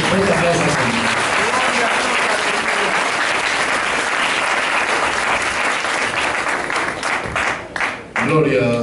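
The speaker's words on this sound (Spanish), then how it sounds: "Fuerte aplauso al Señor." Loud, sustained applause from a church congregation at a united worship service, steady clapping that fills the room for several seconds before thinning out near the end.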